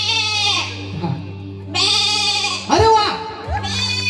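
A person imitates a goat bleat during a Home Minister party game, several wavering bleating calls loud and close, with talk and laughter around them.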